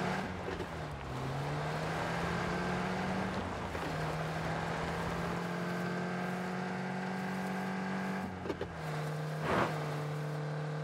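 A vehicle engine drones in the game PUBG, its pitch rising and falling as it speeds up and slows, steady and close with wind-like rush around it and no voices.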